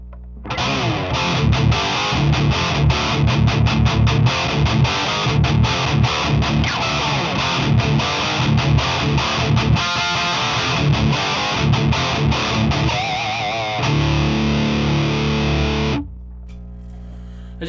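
Heavily distorted electric guitar riff played through a Rev Amplification G20 amp, loud and continuous with chugging, palm-muted rhythm, ending in a sustained ringing chord that cuts off abruptly.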